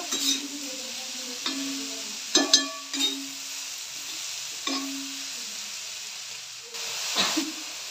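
Pumpkin leaf vegetable cooks in a pan over a full gas flame under a constant soft sizzle, with several sharp scraping stirs of a spoon breaking through at irregular moments.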